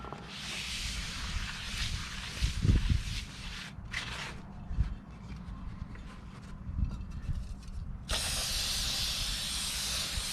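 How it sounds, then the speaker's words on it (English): Brake cleaner hisses from an aerosol can in long, loud bursts onto a brake rotor of a 2010 Nissan Frontier SE, with short pauses and faint clanks between sprays. "So I'm going to be cleaning this rotor with brake clean, get all of the oil off."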